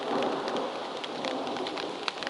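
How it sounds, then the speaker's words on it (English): Steady rain during a thunderstorm on an exposed rocky ridge, a dense continuous broadband hiss with scattered drop spatters, loud and close throughout with no voices. "I think the worst of the rain is over."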